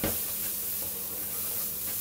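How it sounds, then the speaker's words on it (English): Onions cooking gently in oil and butter give a soft, steady sizzle with a faint hiss, quiet and unbroken, with no voices. "into the oil and butter, I'm going to add the onions. And I'm just going to cook those gently until they're brown"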